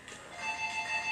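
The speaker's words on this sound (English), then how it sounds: "That was the phone." A telephone rings with a steady electronic tone that starts soft and builds, ending in a sharp louder burst, with no talk.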